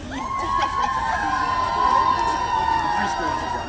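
A crowd of preschool children at an elementary school event yells together as loud as they can, a steady sustained roar of shrill voices that fills the whole stretch.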